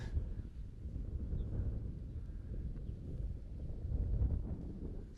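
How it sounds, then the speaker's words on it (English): Strong wind sweeps across a disc golf course, roaring and buffeting the microphone in a steady low rumble throughout, with no voices. "And the raging wind."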